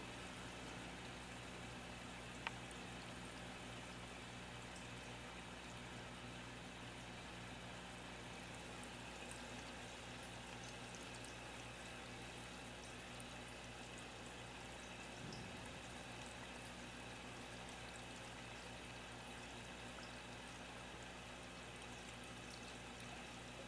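A basement aquaponics pump drawing water out of the tank, a faint, steady trickling and pouring flow with a low mechanical hum, continuous and unbroken, with no voices.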